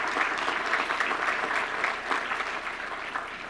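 Audience applause after a presentation on XR and metaverse strategies, a steady dense patter of many hands clapping throughout, fairly close and filling the room with no talk over it.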